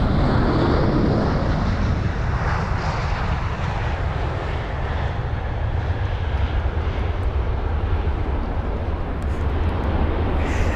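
A 20-year-old Finnair Airbus A320 landing at London Heathrow in windy conditions, its engine roar loud, steady and broadband throughout, with continuous wind buffeting the microphone.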